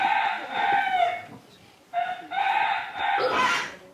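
A rooster crows twice in a row, each call long and strained, with a noisy rustling background.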